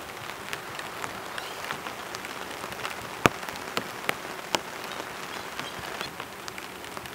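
Autumn rain patters steadily on a tarp and tents at a camp, with a dense, even hiss and occasional louder individual drops striking close by.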